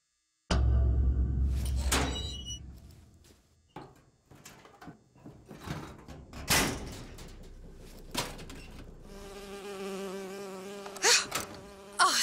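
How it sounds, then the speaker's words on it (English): An insect buzz in the video game BioShock Infinite, a bee droning on and off with shifting pitch, mixed with clattering and door-like game sounds, fairly loud and with no voices. "Oh, it's a bee. I hate these things."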